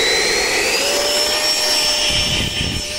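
The jet engine of a Jolly Rogers F5 RC model roars loud and steady at takeoff with a high whining turbine tone, close, continuous and unbroken by voices.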